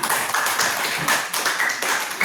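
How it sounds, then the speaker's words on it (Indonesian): A classroom of students clapping hands, a few uneven bursts of claps with short gaps between them, fairly close and moderately loud. "Bagus dan rapi juga, tepuk tangan."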